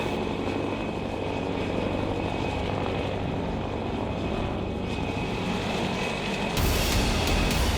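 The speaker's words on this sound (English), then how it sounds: "3 hours later, the much-awaited helicopter returns" A helicopter returns to an icebreaker in the Arctic, its rotor and engine drone steady and fairly close, with a low throbbing hum that swells suddenly louder near the end.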